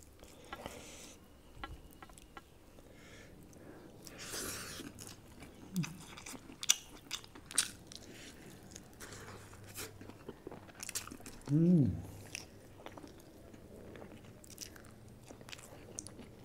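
Close, quiet mouth sounds of someone biting and chewing a chicken leg piece, soft crunches and smacks scattered across the stretch with one louder burst near the end, no talking.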